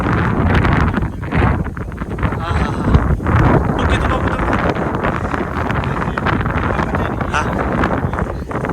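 Strong wind buffets the microphone in loud, continuous gusts, with a muffled voice partly buried beneath the roar.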